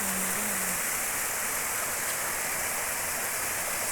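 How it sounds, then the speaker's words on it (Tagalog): A small mountain waterfall pours in a steady, unbroken rush of falling water, close and even throughout with no voices. "So, ito pa lang yung maliit na falls."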